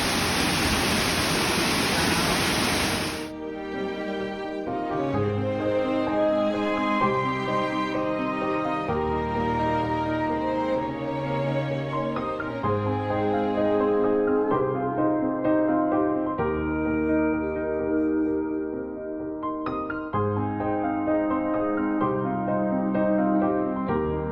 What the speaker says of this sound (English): It's just one cascading waterfall after another today.